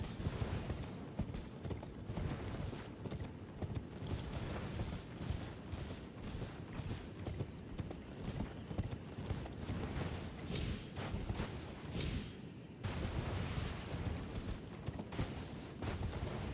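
Steady rhythmic clip-clop of horse hooves in the video game Elden Ring, continuous and moderately loud, with a brief dropout near the end before the galloping resumes.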